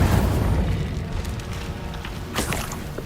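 An Incendio fire spell is cast in the video game Hogwarts Legacy, producing a deep rumbling whoosh that fades, then a sharper fiery burst near the end.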